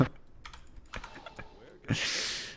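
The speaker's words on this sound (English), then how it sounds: "you can hear the keyboard and stuff still" Fast computer keyboard typing in clustered clicks and taps close to the microphone, fairly quiet, ending in a brief burst of louder broadband noise.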